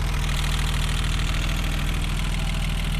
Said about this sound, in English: Get the valve clearance fixed because we can definitely hear the tapping sound